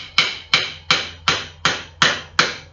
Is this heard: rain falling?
no